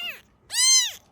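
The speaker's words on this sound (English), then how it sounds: "Little cat." A kitten meows twice at close range: a short call, a brief pause, then a longer, louder, drawn-out meow, with no other sound around it.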